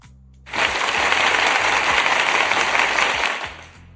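A crowd breaks into steady, dense clapping that holds at full strength for about three seconds and then tapers off, with faint talk before it starts.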